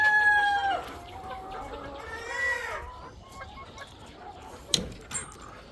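Sonali roosters and chickens in a rooftop shed: a rooster crows at the start, then scattered clucks and softer calls follow, with a couple of sharp knocks near the end.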